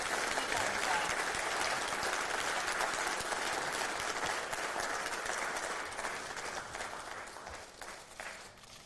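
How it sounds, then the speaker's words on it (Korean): A party caucus audience applauds to welcome presidential candidate Kim Moon-soo, a dense, sustained wash of clapping from a large crowd that holds steady and then gradually thins and fades toward the end. "여러분 모두 박수로 맞이해주시기 바랍니다"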